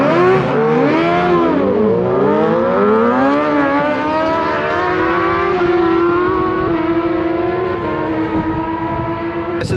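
A motorbike revs hard on a race track with its rear wheel spinning, doing burnouts against the limiter; a loud, continuous engine wail climbs in pitch over the first seconds, then holds a steady high drone to the end.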